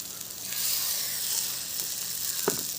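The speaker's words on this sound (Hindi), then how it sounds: "हमारा कटहल जो हम रखेंगे वो ज़्यादा चिपकेंगे नहीं और अच्छे से फ्राई भी होंगे" Jackfruit pieces frying in a small amount of oil in a pan in a village kitchen give a steady, close sizzling hiss that holds evenly throughout, with a brief louder crackle near the end and no talking.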